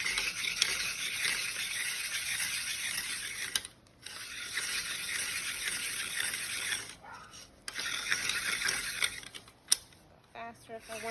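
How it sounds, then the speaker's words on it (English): Fresh coconut being ground by hand against a grater, a steady rasping, scraping texture with brief pauses and faint talk. "So I can turn it as I really grind this down."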